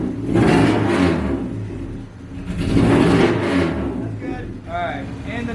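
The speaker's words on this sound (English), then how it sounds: "Give it a couple revs." A car engine revs up twice in close succession, each swell rising then falling back, loud and nearby, with a brief whine at the end.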